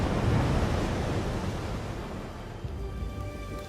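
Ocean waves wash in a steady, broad rush of surf, loudest at the start and easing slightly, with no voices over it.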